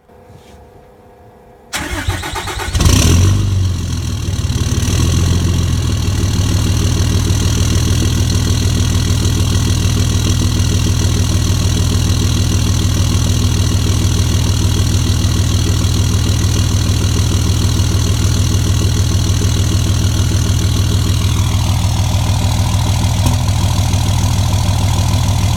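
A 2007 Cummins 5.9L diesel engine cranks and fires up, then settles into a loud, steady idle with a deep rumbling exhaust note that stays constant and close throughout, with no voices.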